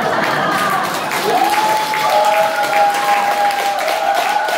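An audience at a church evangelism seminar breaks into a burst of clapping and applause, with some tonal voice or sound mixed in underneath.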